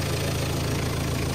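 A Renault Kangoo engine idles steadily, a close, even, low rumble with a regular throb and no pauses or talking.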